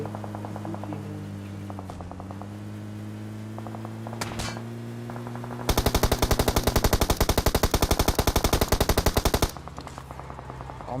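Rapid automatic gunfire in PUBG Mobile: a few scattered shots early on, then a loud, dense, sustained burst of fast, evenly spaced rounds lasting about four seconds over steady game background noise.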